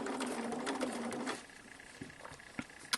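A sewing machine stitches quilt fabric with a quiet, rapid mechanical whir that lasts about a second and a half, followed by faint handling clicks and taps.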